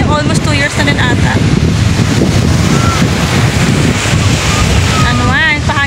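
Loud wind roars across the microphone by the sea, with surf noise beneath and people talking intermittently, including a high-pitched voice.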